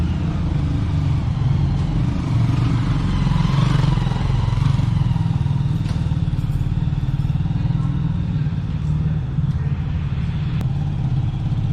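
A new Benelli Leoncino 250 motorcycle idles and revs as it is brought out from behind a garage for a test ride, a steady engine drone with light clatter while people talk over it.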